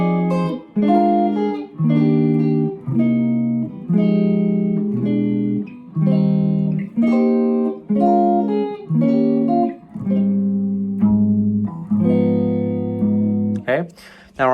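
A guitar plays a song's melody over chords, each phrase ringing out in steady measured groups with brief gaps between them, clear and close with no talking.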